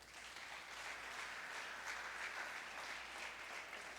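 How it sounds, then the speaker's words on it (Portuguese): A church congregation claps together in sustained, dense applause that stays loud and even for about four seconds, with no voices standing out. "Dá um aplauso a Ele, merece."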